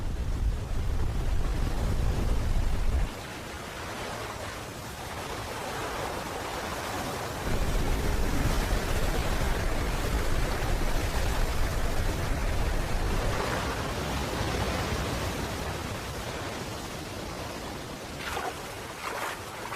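A huge waterfall in the Andes, a loud, dense roar of falling water that continues throughout, with wind buffeting the microphone and shifting in intensity, close and enveloping.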